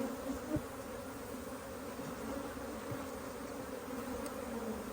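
Honeybees buzz steadily and densely around an open beehive during a hive inspection, a continuous close swarm drone with no talking.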